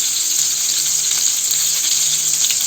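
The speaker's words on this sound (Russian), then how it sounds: "масло и буду жарить 3-4 минуты с каждой стороны" Battered fish fries in hot oil in a pan, a steady, loud, close sizzle and crackle that continues without pause, with no talking.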